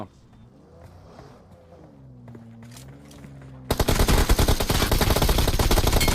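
Rapid automatic gunfire in the mobile battle royale game BGMI, a loud sustained burst of close shots that begins partway through after quieter in-game engine and ambient sounds.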